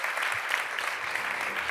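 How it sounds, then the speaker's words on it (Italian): An audience at the opening of an Italian film festival in Madrid gives steady, moderately distant applause for Giuseppe Piccioni. "Un grandissimo applauso a Giuseppe Piccioni"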